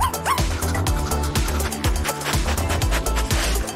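A puppy yips and whimpers repeatedly over a busy, loud backdrop of music, the high cries rising in short bursts throughout while a homemade miniature room is crafted for it.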